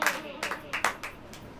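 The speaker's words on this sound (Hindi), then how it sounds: "ताली बजाओ" Congregation at a church sermon clapping hands in a few short bursts, close and fairly faint, with a preacher's voice around them.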